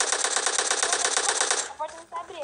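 Rapid automatic gunfire from a PUBG Mobile match, a dense, loud, steady burst of shots that cuts off abruptly, followed by a brief voice and scattered game sounds.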